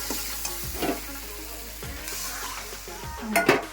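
Potato curry (aloo dum) frying in spices in a pan, with a spoon stirring and scraping through the thick mixture in a few separate strokes, a soft sizzle underneath, and a sharper clink of utensil against the pan near the end.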